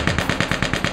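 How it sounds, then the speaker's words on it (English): A gas-operated machine gun mounted on a World War II truck fires a rapid burst of about nine evenly spaced shots, loud and sharp, heard alone. "They have a little machine gun mounted up there."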